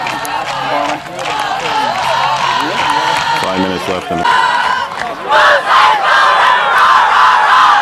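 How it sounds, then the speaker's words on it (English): A crowd at a high school football game, the MLWR Rebels against Esko, roars and cheers steadily with bursts of clapping and shouts, while an announcer talks over the noise. "Nice crowd here for the Rebels."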